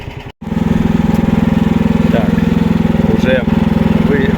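A mini loader's engine runs under load, a loud, close, evenly pulsing putter like a small single-cylinder motor, steady after a brief dropout near the start, with faint squeaks and a voice talking over it.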